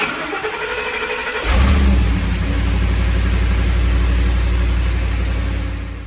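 A Ford Raptor's 6.2 liter V8 is jump-started with a Lokithor jump starter. After a quiet moment the starter cranks briefly, the engine catches with a loud rev, then it settles into a deep, steady idle close by.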